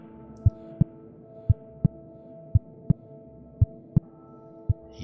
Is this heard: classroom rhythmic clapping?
no